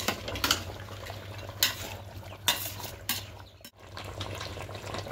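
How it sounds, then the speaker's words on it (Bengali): Chicken with yogurt and sugar is stirred in a pot: a quiet, close clatter of a utensil scraping and knocking against the metal, with a few sharper clinks over a faint, wet background. "এবার খুব ভালো করে মিশিয়ে নেব সবগুলো একসঙ্গে।"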